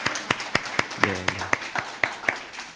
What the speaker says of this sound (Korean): 한번 축하의 박수 보내주세요.